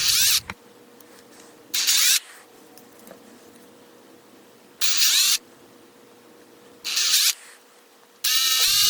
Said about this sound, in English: Okay, you just saw that I drilled the holes in there.